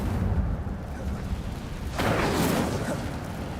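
In Hogwarts Legacy, the Incendio fire spell ignites partway through with a sudden roaring whoosh of flame over a low, steady rumble. The blaze stays loud and close to the end.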